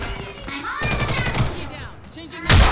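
Sniper rifle fire in the shooter Ghost in the Shell: First Assault, a loud sharp report at the end following clattering gunplay and whooshing game effects, with a voice talking over parts of it.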